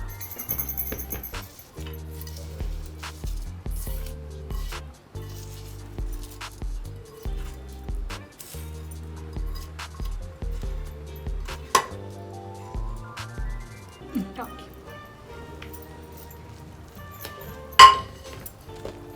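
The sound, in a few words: mixing smashed food with tempering in a bowl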